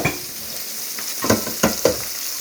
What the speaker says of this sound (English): And I'm going to stir a little bit.